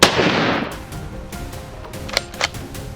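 Gunfire aimed at a herd of wild boars, one loud nearby blast at the start followed by a short decaying rumble, then a couple of fainter sharp cracks later on.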